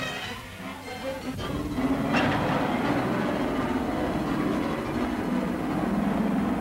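Railroad cars being coupled and assembled into a train in a rail yard, a steady rumbling clatter with a couple of sharp metallic knocks, fairly close and continuous.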